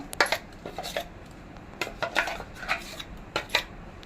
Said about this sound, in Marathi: डाळ पण वाटून झाली आता ह्या पातेल्यात आपण हे सगळं मिश्रण एकत्र करूया